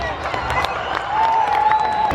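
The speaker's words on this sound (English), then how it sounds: "Round of applause, Auckland. Let's hear ya." An outdoor crowd at Auckland's Christmas in the Park applauds the band, a steady spread of clapping and cheers, with a sustained whistle or tone rising above in the second half.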